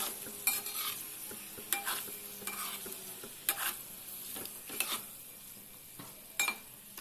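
Fish pieces frying in a pan and being stirred, giving a steady close sizzle broken by several sharp scraping clinks of a spoon against metal at irregular intervals.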